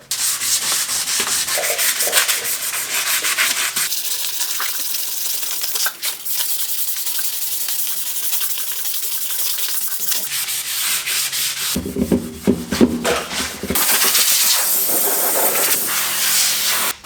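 Sanding down curb rash on a truck wheel for an LML Duramax produces a continuous, close, abrasive rasping that runs steadily throughout, with changes in tone and pressure partway through and no talking.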